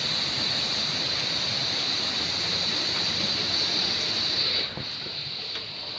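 Heavy storm rain pours steadily onto a terrace in a dense, unbroken hiss that drops slightly in level near the end, with no voices.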